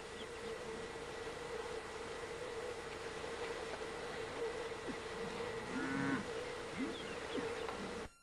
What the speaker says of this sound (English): Some of the cattle in the morning right outside the front door.